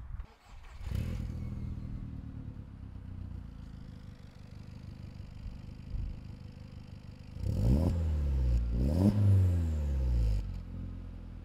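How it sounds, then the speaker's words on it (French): A VW Polo engine fires up with a sharp start, settles into a low idle, then revs hard twice with rising and falling roars, heard close from the back of the car. "Est-ce que je peux profiter d'être à l'arrière pour entendre la sonorité directement d'un démarrage?"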